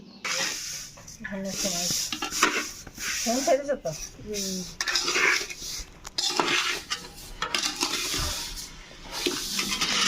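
Fried vermicelli (semai) is stirred in a pan, with scraping and clinking of a utensil against metal, close and uneven, under a voice speaking in Bengali.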